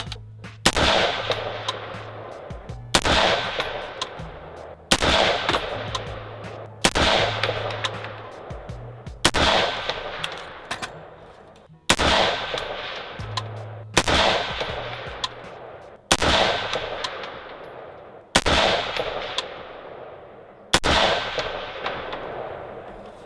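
Ten AR-15 rifle shots fired at a 100-yard target outdoors, each a sharp loud crack with a ringing tail, spaced evenly about two seconds apart, no talking between them.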